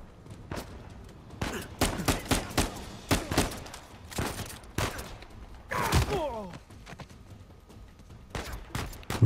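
Gunfire in the action video game Uncharted 4 comes as a series of sharp, loud shots in irregular bursts and single cracks. Thuds and other game effects fall between the shots, with some separated by short pauses.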